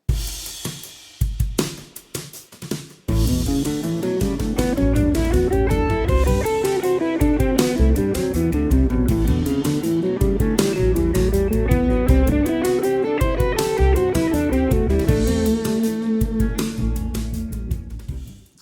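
Guitar improvises with two modes layered over static chords, with steady melodic runs climbing and descending above a full, sustained backing for most of the clip after a brief sparse start, with no talking.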